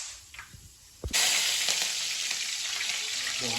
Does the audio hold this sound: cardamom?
yes